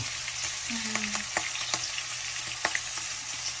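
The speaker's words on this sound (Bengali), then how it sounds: "এই যে ঠাস করে আওয়াজ হচ্ছে না, ওরে বাবা, কিভাবে হ্যাঁ ফুটে খুব শরীরে ফুটতেছে।" Hilsa fish fry in hot oil in a home kitchen, giving a continuous close sizzle broken by sharp spattering pops at irregular intervals and a short whistling tone early on, with no talking.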